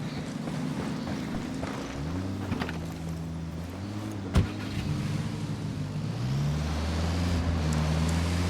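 A car driving in Ghost Recon Wildlands, with a steady low engine drone and rising, shifting engine tones as it accelerates, plus wind noise and a brief thump midway. There is no talk over it.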